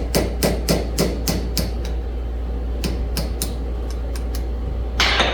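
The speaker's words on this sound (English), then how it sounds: "Take your little hammer," Small hammer lightly tapping a Harland Sharp engine rocker, quick runs of crisp metallic ticks in two groups, then a brief rustle, over a constant low hum.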